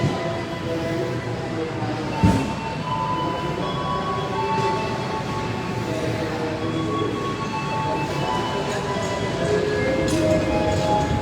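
A steady rumble of a train at Gambir Station in Jakarta, with faint squealing tones and a brief metallic clank, continuous and fairly loud.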